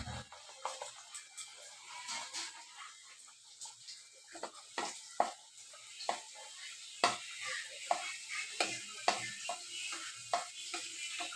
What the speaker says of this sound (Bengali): আমি একটা একটা করে ভেজে নেব।